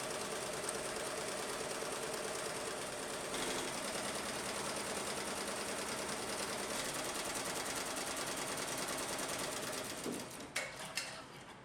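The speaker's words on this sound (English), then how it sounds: "we can enter the embroidery model and start the machine" An embroidery machine stitches in a rapid, steady mechanical chatter that runs continuously before slowing and stopping with a few clunks at the end.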